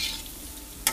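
Onion and mushrooms sweating down in a frying pan give a steady soft sizzle, with a brief louder stir or scrape near the end.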